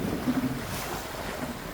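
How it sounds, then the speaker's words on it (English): A sailboat under sail with its engine switched off, running at around seven knots on a coastal passage toward Durban, gives a steady blend of wind buffeting and hull-and-wave wash, moderately loud and continuous with no voices. "we've actually been able to switch the engine off and purely sail"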